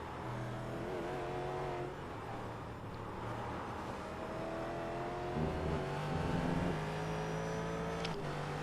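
Two Ford GT race cars lapping Suzuka in a racing game, engines droning and shifting pitch steadily at a distance with a sharp high tone near the end, no talking.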